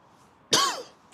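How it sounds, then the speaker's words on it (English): A single sharp cough, close and fairly loud, bursting out after a quiet moment and trailing off, during commentary at an American football game in the UK. "I do apologise for coughing."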